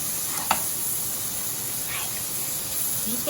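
Green beans sauté in butter in a pan with a steady, close sizzle and hiss, with a light tap of tongs now and then.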